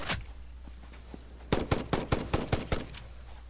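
Gunfire from the player's gun in the video game Satisfactory: one early shot, then a quick burst of about eight sharp, evenly spaced shots, loud and close, with no voices.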